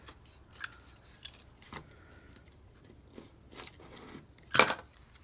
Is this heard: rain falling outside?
no